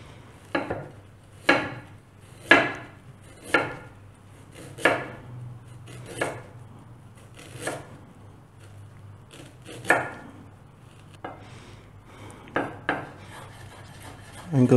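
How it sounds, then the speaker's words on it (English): Knife julienning ginger on a cutting board, about a dozen separate sharp cuts spaced unevenly, close and clear over quiet background. "I'm going to julienne the ginger."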